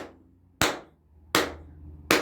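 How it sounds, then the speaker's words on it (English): Three slow, single hand claps, sharp and close, spaced about three quarters of a second apart, each ringing out briefly in a quiet room. "I have to clap for you"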